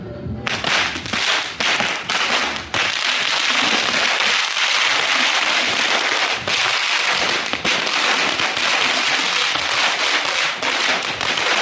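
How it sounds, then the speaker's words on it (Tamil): A long string of small Diwali firecrackers tied together bursts in a rapid, continuous crackle, dense popping that keeps going loudly for several seconds. "இது பார்த்தீங்கன்னா குட்டி குட்டி சரவடியெல்லாம் சேர்த்து வச்சு வெடிக்கலாம்னு சொல்லிட்டு சேர்த்து வச்சுருக்கோம்"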